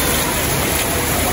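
Heavy rain pours in a steady, loud hiss with no break, close by and alone.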